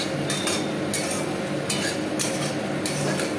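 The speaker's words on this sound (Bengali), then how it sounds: "আমি সবজিগুলোও দিয়ে দিয়েছি। এবার এগুলো ভাজছি।" Vegetables for oats khichdi frying over a low flame in a pan, stirred with a utensil: a steady close sizzle with repeated scraping and clinking strokes, no talk.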